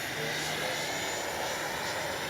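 An FMS 70mm F/A-18F electric ducted-fan RC jet flying overhead, a steady continuous whine and rush of air at even loudness throughout, with no talk.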